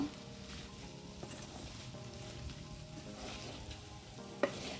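Taro stolons are sautéed in a pan, producing a soft, continuous sizzle with occasional stirring clinks and a sharper knock near the end, fairly quiet and close.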